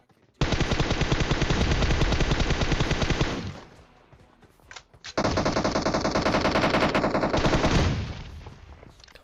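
Sustained automatic gunfire with grenade blasts in the game PUBG Mobile, two long dense loud bursts of rapid shots separated by a brief gap with a few scattered single shots.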